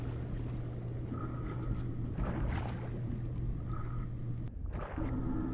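Minecraft underwater ambience from the MAtmos mod: a dense, muffled low rumble with bubbly swells, broken by a brief dropout and whoosh near the end.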